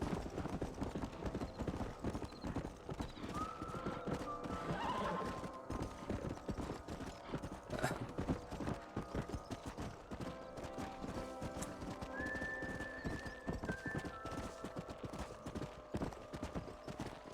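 A horse in Red Dead Redemption, played on Nintendo Switch, gallops with a steady clip-clop of hooves and gives a couple of neighs partway through, with game ambience and faint voices in the background.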